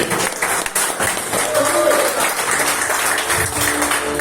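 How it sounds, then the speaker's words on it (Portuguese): A church congregation applauding during a family service, loud continuous clapping mixed with crowd voices and some speech throughout. "aplauda o Senhor nessa noite"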